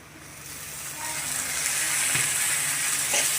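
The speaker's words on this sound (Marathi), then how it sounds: "आता यात आपण टोमॅटो टाकून घेऊ" Tomato added to onions browning in hot oil for a dhaba-style dal tadka, a steady close sizzle that grows louder, with a soft stir sound or two.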